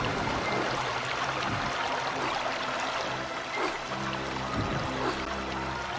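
Flowing, churning water while swimming in the video game American McGee's Alice, a dense steady rushing wash with low murmuring underneath, continuous for several seconds and free of talk.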